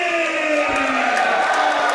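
A wrestling crowd in Melbourne cheers and whoops loudly and steadily as Shigehiro Irie is introduced. The roar holds throughout without a break.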